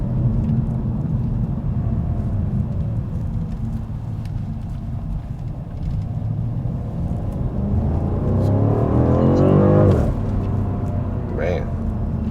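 A 2020 BMW M550i V8 with Active Sound Design switched off drones steadily close by, then swells into a rising rev around the nine-second mark before settling back down.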